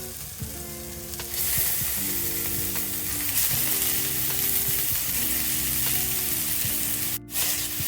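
Pieces of protein laid one by one into a hot wok hiss and sizzle loudly, the frying swelling as each lands, with small clinks and a brief dropout near the end.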